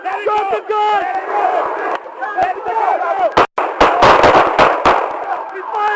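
Sharp, loud gunshots ring out during a police confrontation: several separate broadband cracks in the second half, after shouting voices that fill the first half.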